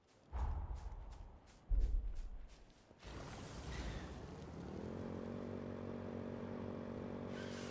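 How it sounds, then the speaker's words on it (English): Motorcycle engine in Code Vein 2, first a couple of bursts of revving and clatter, then a steady droning hum that holds to the end at moderate level, with no voices. "Now I'm trying to get off the motorcycle"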